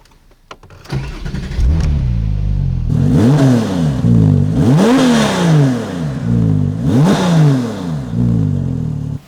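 A 2008 Porsche 911 GT2 of the 997 generation, fitted with an aftermarket Fab Design exhaust, fires up and revs loudly several times in repeated rising and falling sweeps, close and alone.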